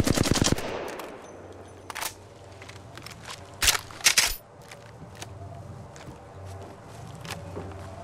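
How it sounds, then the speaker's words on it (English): Gunfire crackles in the Apex Legends video game in short bursts and single shots, mixed with footsteps and clattering game effects over a low background hum. "I'm spotted, taking fire."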